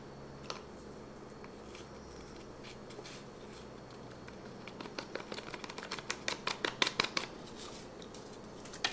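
Powder is tapped through a folded paper funnel, making a run of light, quick clicking taps that grow denser and louder before trailing off over a quiet background, with no voices.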